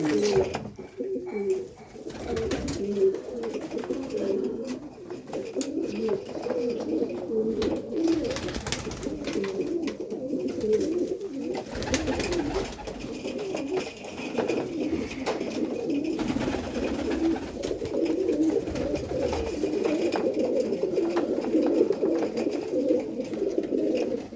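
Flying pigeons cooing steadily, a dense continuous murmur of soft throaty coos from a flock close by, with brief faint voices in the background.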